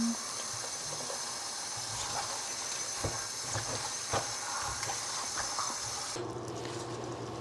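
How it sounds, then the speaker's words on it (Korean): Spinach is washed under running tap water in a kitchen, a steady hissing stream with soft splashes and clatters that stops near the end. "시금치를 깨끗하게 씻을게요."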